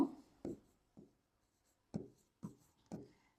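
Pen writing on paper while working through a Newton-Raphson numerical analysis problem, heard as six short scratchy strokes in uneven bursts, close and fairly quiet, with no talking.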